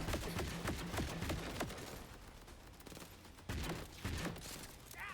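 Gunfire in the video game Borderlands 4, clusters of rapid shots and impacts at moderate loudness, with a sharp burst near the end.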